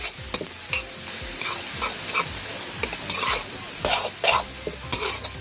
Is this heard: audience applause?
no